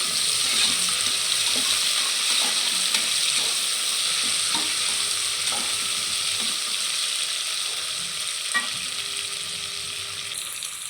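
Mint and coriander leaves sauté in a pan for mutton biryani, giving a loud, even frying hiss throughout, punctuated by periodic scraping clicks of a spoon stirring, with the sizzle easing slightly toward the end.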